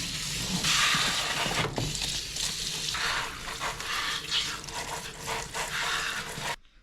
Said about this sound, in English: go ahead and then rinse your filters